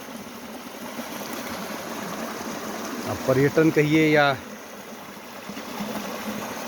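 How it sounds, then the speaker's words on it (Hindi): A small mountain stream in Garhwal rushes in a steady broadband wash, continuous and fairly near, with someone briefly talking over it midway. "एक पहाड़ी नदी, छोटी सी पहाड़ी नदी जिसको हम गाड कहते हैं"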